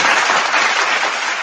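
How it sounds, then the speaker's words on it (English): A studio group on a pop-culture talk show gives a loud, close round of applause: brisk, continuous clapping that holds steady and then tapers slightly. "Round of applause."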